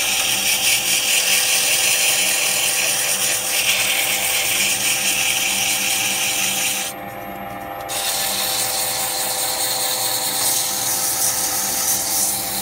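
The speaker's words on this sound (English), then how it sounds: "So we'll slow right down and just go through some sanding." A turned pen spins on a wood lathe, run slowly on steel bushings while being sanded: a continuous close, loud rasping hiss with a steady motor whine, broken by a short quieter gap partway through.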